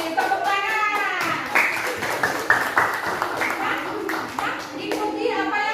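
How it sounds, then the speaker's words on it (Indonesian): A group of children in a classroom clap their hands in a short burst while a teacher's voice and children's chatter run underneath, the clapping coming in uneven, close bursts. "Tepuk tangan."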